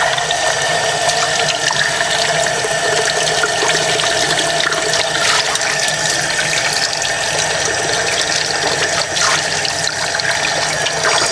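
Water runs steadily and loudly from a tap as a hummingbird feeder is rinsed, a continuous broadband splashing rush with small fluctuations for the whole stretch and no talk.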